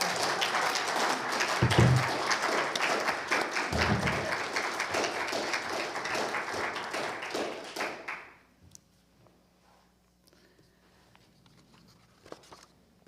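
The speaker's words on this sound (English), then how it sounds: "Let's have another round of applause for that." Church congregation giving a round of applause, loud dense clapping from a crowd for about eight seconds that cuts off sharply, leaving a near-silent room with a few faint knocks and shuffles.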